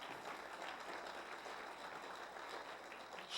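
Steady, dense audience applause fills a motivational speaking event as the crowd claps for a woman asked to stand, sustained at even loudness throughout with no voices on top.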